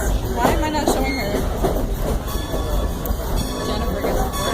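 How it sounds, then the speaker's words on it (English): Strasburg Rail Road passenger train ride in Pennsylvania, a continuous rolling rumble and clatter of wheels on track from inside the car, with people talking over it. "I'm on a train"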